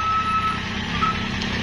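Reversing beeps from a Fuso truck on a steep incline at Batu Jomba sound as a steady run of high electronic tones over the low rumble of the heavy truck engine.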